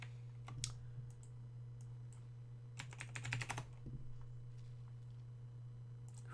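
Quiet clatter of fingers on a computer keyboard, a few scattered keystrokes followed by a quick burst of fast typing, then it trails off over a low steady hum.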